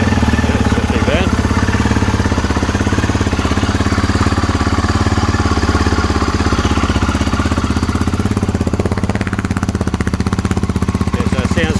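Close, continuous idle of a motorcycle engine fitted with an aftermarket exhaust, a rapid pulsing putter that runs steadily throughout with a few faint background sounds.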